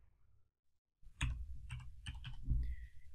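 Computer keyboard keys tapped in a quick burst of clicks, close and fairly loud, after a brief quiet start; a faint tone rings near the end.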